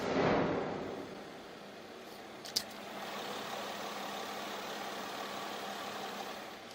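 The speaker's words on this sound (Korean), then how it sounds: "이 정도의 엔진 소음 만나보실 수가 있습니다" Fifth-generation Mercedes-Benz S-Class S350L idling with the hood closed: a quiet, smooth, steady engine hum with no roughness, heard alone apart from one faint brief click partway through.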